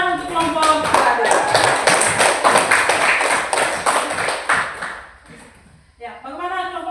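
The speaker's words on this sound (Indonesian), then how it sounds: "tepuk tangan untuk kelompok berada" Students in a classroom clap for a presenting group, a dense round of applause for about five seconds that fades out before a voice starts talking.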